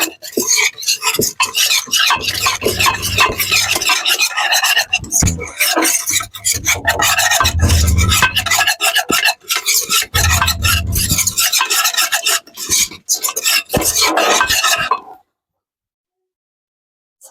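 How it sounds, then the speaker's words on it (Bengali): A whisk beats coriander powder and other spices into yogurt for a dahi mutton curry, making fast, rhythmic scraping and rasping strokes against the bowl, close and loud, before stopping into silence. "এবার সব মশলাগুলোকে ভালোভাবে এটার সাহায্যে ফেটে নেব।"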